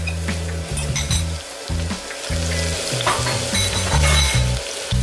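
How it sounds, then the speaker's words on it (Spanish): Sliced onion tossed onto chiles in a hot pan over high heat, a loud continuous sizzle and frying crackle with stirring scrapes and clinks of utensil against the pan, close up and without talk. "Ya están listos para agregar la cebolla toda de golpe."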